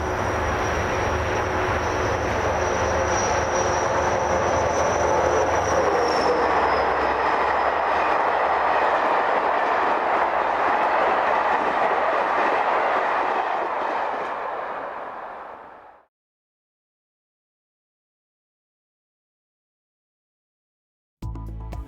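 Czech railway locomotive 72031 heading east passes with a loud sustained engine roar and rumble for about fifteen seconds, then fades abruptly into silence before a brief cut-in at the end.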